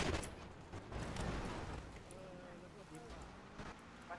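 Gunfire in GTA V on a FiveM server comes as a rapid burst of shots early on, then sparser distant pops, with a voice talking over much of it.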